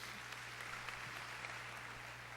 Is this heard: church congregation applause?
yes